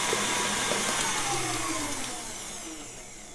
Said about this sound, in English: Now with our whisk attachment, we're just gonna incorporate that until the eggs and the sugar are really nice and fluffy.